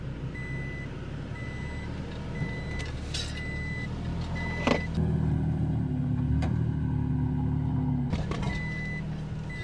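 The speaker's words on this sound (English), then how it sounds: "The truck just constantly beeps in 4 low." A Toyota Tacoma pickup in 4 low climbs a small hill while its warning beeper sounds in steady repeated pulses over a low engine rumble, with a couple of sharp knocks partway through.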